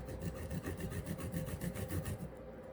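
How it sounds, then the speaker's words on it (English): Garlic cloves rasped against a handheld grater for bruschetta, a steady rhythmic scraping of repeated strokes, close and continuous, with no talking. "I'm going to use this, and I'm going to grate"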